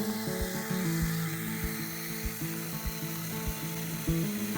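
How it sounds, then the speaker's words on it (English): A small battery-powered mini chainsaw cuts the top off a wooden post at an island homestead, its motor humming with rhythmic pulsing bursts as the chain bites, close up with no talking. "This mini chainsaw is awesome and sure came in handy here."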